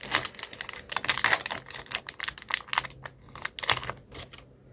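A Mechamato toy card pack's wrapper is torn open, producing quick crackling and crinkling bursts at close range that come in irregular clusters, with no one talking.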